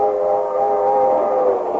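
A streamliner passenger train rolling across the countryside, rendered as a radio drama sound effect: a loud, continuous droning rumble with a sustained whistle-like tone, steady and unbroken throughout.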